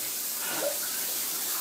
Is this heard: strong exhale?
no